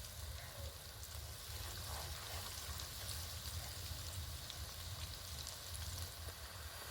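Sugar gaja dough pieces fry in hot oil over a medium flame, producing a steady, dense sizzle and bubbling that continues evenly throughout without any speech.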